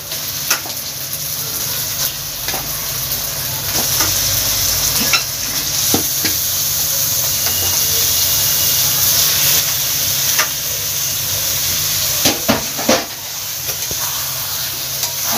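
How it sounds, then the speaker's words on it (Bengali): Chicken pieces frying in an oil-rich, cooked-down spice paste in a pan, a steady close sizzle with scraping stirs and occasional utensil knocks against the pot throughout. "এবার মাংসটা দিয়ে দেব।"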